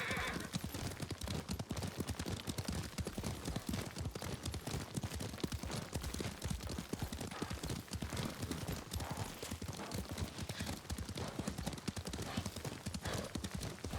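Horse hooves clip-clop steadily at a riding pace through Ghost of Tsushima, a continuous close rhythm of hoofbeats with a brief whinny near the start.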